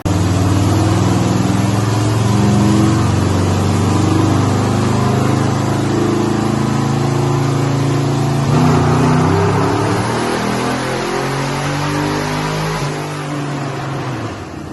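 A 2006 Pontiac GTO with a twin turbo kit at 11 psi, stock cam and Magnaflow mufflers roars loudly and steadily under a dyno pull, the engine note rising before easing off near the end.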